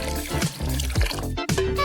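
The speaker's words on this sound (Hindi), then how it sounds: "तुम उसमें उसके बाल धो रही हो।" Old bath water being poured over hair during washing, a few close splashing, gurgling pours with brief drips in between, no talking.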